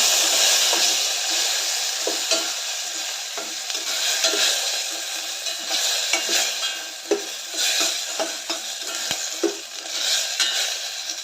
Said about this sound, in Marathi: टोमॅटो कढीपत्ता लसूण हे सर्व परतून घेऊया